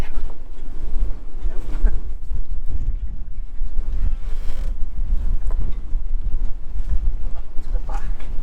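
Strong wind gusts buffet a marina during Storm Arwen, a loud continuous rumbling roar with creaks from boats and rigging, and a brief spoken word partway through.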